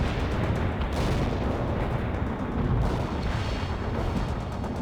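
Sustained battlefield din from the video game World in Conflict: dense rumbling artillery booms and gunfire pile into a continuous, loud, low-heavy roar with no clear gaps and no voices.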